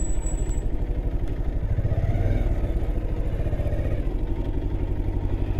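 A Bajaj Pulsar 220 BS4 motorcycle idles close by with a steady, rapid engine putter, rising briefly as it is rolled into its parking spot, with no talk.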